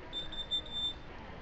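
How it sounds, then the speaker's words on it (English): High, thin electronic beeps, about four short tones in a row over faint background hum, quiet and steady, with no voices. "Beep, beep, beep, beep,"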